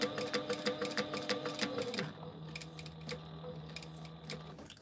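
Sewing machine stitching a pouch seam, running close in a steady rapid ticking rhythm for about two seconds, then slowing to fainter scattered clicks and a low hum as the stitching eases off.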